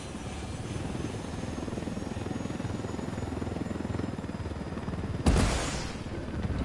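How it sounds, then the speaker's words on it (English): A helicopter flies in the video game Ghost Recon Wildlands. Its rotor gives a steady, close, rapid chopping drone, and a sharp burst near the end sounds like a gunshot or impact. "Let's take the chopper and destroy everyone."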